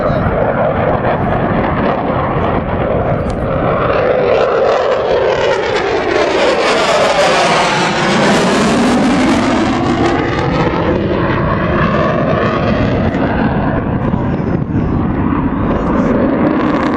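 Eurofighter Typhoon jet passing at the Southport Air Show, a loud, roaring flyby whose whine sweeps up and back down as it closes in and moves away, with crowd voices faint underneath.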